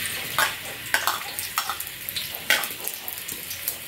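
Crabs fry in hot oil in a pan, giving a steady sizzle broken by sharp crackling pops and a few light scraping stirs.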